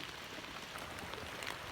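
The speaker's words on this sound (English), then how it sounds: "So unfortunately, it's raining and the paper got wet, so did the pen." Steady rain falling outdoors, a faint, even hiss of drops with no gaps or voices.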